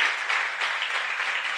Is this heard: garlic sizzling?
no